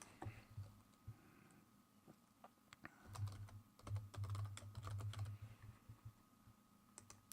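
Computer keyboard typing, soft and close, comes in scattered clicks at first and then a steady run of quick keystrokes, quiet and alone with no talk.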